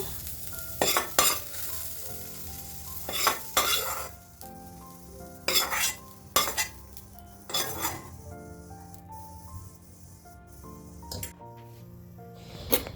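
Onions sizzle in a pan as a utensil stirs and scrapes in repeated bursts, with steady frying hiss between, until half fried.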